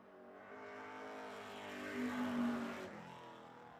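A Legends race car runs a qualifying lap at Hythe Motor Speedway, its steady engine drone swelling as it draws nearer, peaking, then easing off; no voices.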